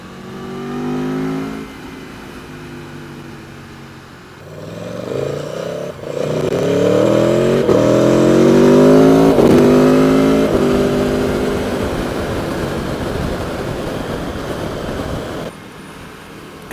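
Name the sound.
Aprilia Tuono 1100 motorcycle engine while riding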